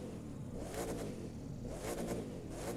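A McLaren P1 in The Crew 2 racing game starts up and idles, a steady mid-range engine hum with a couple of brief swells, loud and close throughout.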